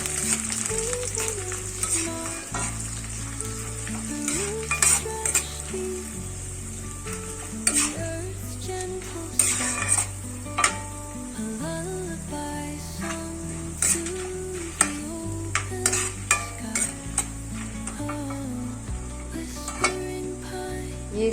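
Mustard seeds, cumin, curry leaves, peanuts and dried chilli sizzle in hot oil as tempering for bhendi fry, a steady crackling fizz with scattered pops and stirring clinks against the pan, no talking.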